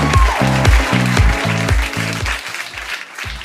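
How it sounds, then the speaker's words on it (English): Studio audience applauding a guest arriving on a talk show, steady clapping laid over a thumping rhythmic music beat that fades toward the end. "Please receive with a round of applause,"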